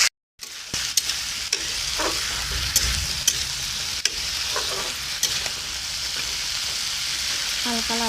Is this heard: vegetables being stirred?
yes